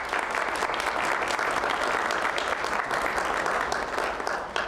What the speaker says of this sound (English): Let's give them all a round of applause for their support.